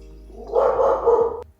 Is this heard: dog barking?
yes